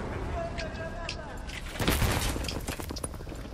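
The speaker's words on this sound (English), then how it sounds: "That's C4. Which should be going off right now." Battlefield 3 match with C4 and grenade blasts booming among scattered gunfire, a heavy explosion swelling near the middle over continuous battle noise while someone talks over it.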